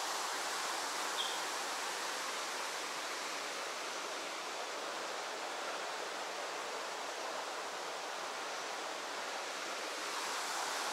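Water from a mountain stream in tropical far north Queensland rushes continuously, a broad, even hiss heard alone and moderately near with no breaks across about eleven seconds.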